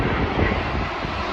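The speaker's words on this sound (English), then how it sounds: "we got another plane coming in" An airplane passes overhead on approach to land, its engine giving a broad, steady roar at moderate distance with some wind rumble mixed in.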